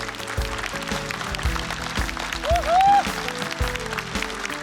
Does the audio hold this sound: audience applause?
yes